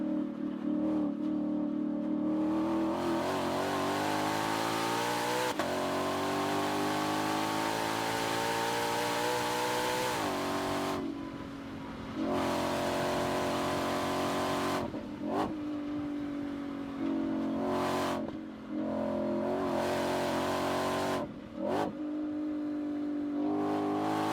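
A Ford Mustang GTD makes hard pulls with its engine and exhaust rising in pitch, then sharp gaps and blips on each downshift. The sound is loud and close inside the cabin.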